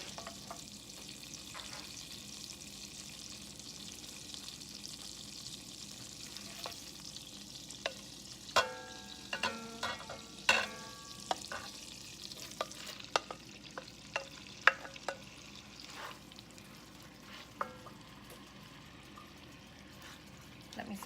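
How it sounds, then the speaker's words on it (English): Soft steady sizzling of chicken frying in butter in a pan, with scattered clicks and scrapes of stirring in the middle, fairly close and moderate. "now that my butter's sizzling, I'm gonna add in my chicken."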